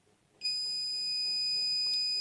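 A multimeter on continuity mode beeping while testing the coil of an electric immersion water heater, one steady high-pitched tone that starts abruptly and holds without a break against a quiet background.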